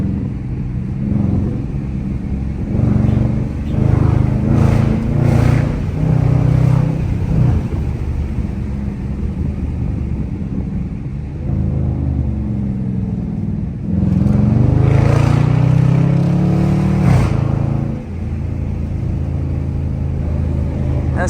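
A Dodge Charger R/T engine pulls and accelerates on a valley drive, its low rumble rising in steady swells with louder surges around the middle and later stretches, heard from inside the car.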